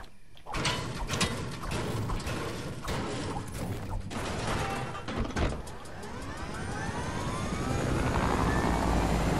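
A helicopter flies in the Fortnite video game, its rotor chop and mechanical whir layered with rattling, clanking game effects, then a rising, swelling engine whine toward the end; no talk.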